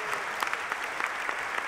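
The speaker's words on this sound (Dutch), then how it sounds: "individuele solisten krijgen nog een applaus" Applause from a concert audience for the soloists of a baroque opera performance at an early music festival, a steady fairly faint patter of many hands with a few sharper claps standing out.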